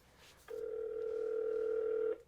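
An outgoing call on a OnePlus 6 phone on the Verizon network gives a steady electronic tone that holds for about a second and a half before stopping, quiet and alone.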